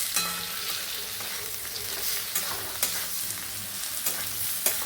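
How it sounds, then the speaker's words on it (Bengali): A spice paste with chopped tomato fries in a pan with a steady, close sizzle, and a spoon scrapes and taps through it in scattered strokes; no one speaks. "এই টমেটো কুচি আমি দিয়ে দেবো, দিয়ে এবার মশলাটাকে ভালো করে কষবে।"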